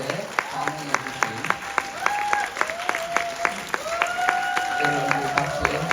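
An audience at a political rally on resident self-governance claps with distinct separate hand claps and a softer crowd wash beneath, while a voice carries on over the clapping.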